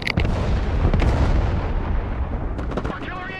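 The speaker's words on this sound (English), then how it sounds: "Artillery engage!" Artillery fire in Broken Arrow thunders in a dense barrage of heavy booms and rumbling explosions, loud and close throughout, with a brief voice near the end.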